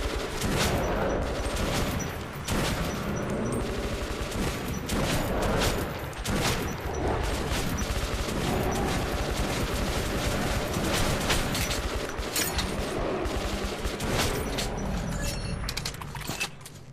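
Enemy gunfire in the video game Metro Last Light Redux: sustained, loud bursts of shots crackle through the whole stretch over a dense rumbling game mix, with sharp reports clustered near the start and middle.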